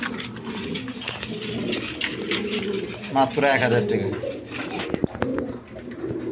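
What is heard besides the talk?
pair of shirting pigeons cooing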